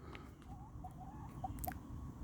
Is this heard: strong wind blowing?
no